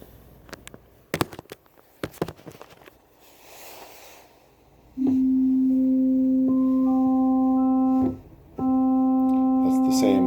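Vintage Allen Rondo organ with trumpet, oboe and clarinet stops drawn together, a steady held reedy note sounding twice with a brief gap, preceded by clicks and handling noise.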